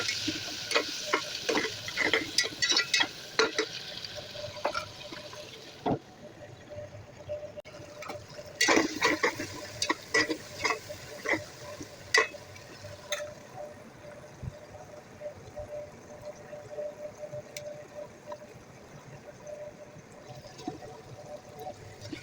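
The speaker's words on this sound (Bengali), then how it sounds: "এখন আমি এখানে কিছু টমেটো কেটে রেখেছিলাম, ওইগুলো ঢেলে দেবো।" Chopped tomatoes tip into onions frying in a pan for a chicken dish, followed by the scrape and clack of a spoon stirring, with faint sizzle underneath and sharp utensil knocks scattered throughout.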